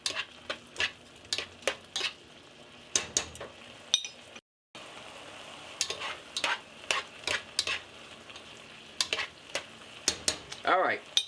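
Beef vegetable soup ingredients stirred in a pot, a spoon scraping and clinking in quick repeated strokes over a soft sizzle, close and fairly quiet, pausing briefly midway.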